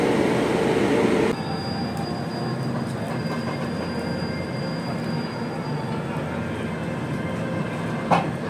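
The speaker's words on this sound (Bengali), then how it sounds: "সন্ধ্যে 6:42 ট্রেন টিটলাগড় স্টেশন ছেড়ে রায়পুরের উদ্দেশ্যে রওনা হলো।" An express train hauled by a Ghaziabad-shed WAP-7 electric locomotive pulls out of Titlagarh station in the evening, a loud rolling rumble with a sustained wheel squeal and a sharp knock near the end.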